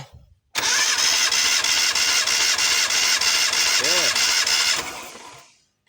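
A 4G91 petrol engine cranks over on the starter during a compression test. It is a loud, even, rapid churning that starts abruptly, holds steady for about four seconds, then cuts off and fades.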